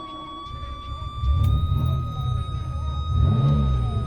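A Lamborghini LM002 engine runs with a loud, deep low rumble that swells in two surges, like revving, with a steady whine above it throughout.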